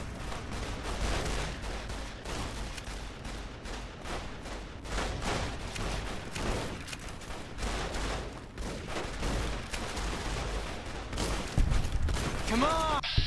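Dense, continuous gunfire from a worn weapon in Fallout: New Vegas, rapid shots and booms layered over one another at a steady loudness, with a brief voice near the end.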